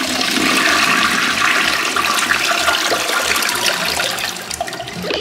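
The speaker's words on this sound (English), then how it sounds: "My toilet has an issue where you have to flush it a couple of times until all the tissue goes." A home toilet that needs several flushes to clear tissue flushes loudly and close, a steady rushing wash of water that tapers off toward the end, with no one talking.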